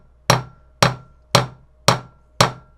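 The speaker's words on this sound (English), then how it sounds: "I found that the curved end of a ball-peen hammer usually does the trick" A ball-peen hammer taps U-joint clips into the front driveshaft yoke of a Jeep Wrangler TJ: five sharp, evenly spaced metallic strikes, each loud and close and ringing out briefly, with no talk.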